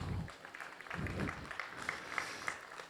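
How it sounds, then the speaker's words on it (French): At an industry conference at Simodec 2026, a hall audience gives a faint, distant round of applause that lasts a few seconds as a speech ends, with a few louder claps standing out near the end. "Vous pouvez encore applaudir un petit peu"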